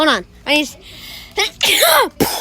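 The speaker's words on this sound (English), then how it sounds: "Oh, you just sneezed in my face." A person sneezes loudly and close to the microphone after some short spoken phrases, a sharp burst of breath and voice during casual gaming chatter.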